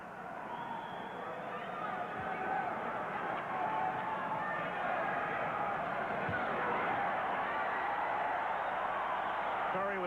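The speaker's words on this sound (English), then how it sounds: "Crowd, of course, responds to everything Curry throws." A boxing crowd in Atlantic City roars and murmurs steadily at Donald Curry's punches in his 1984 bout against Elio Diaz, a continuous arena hubbub under a commentator's voice.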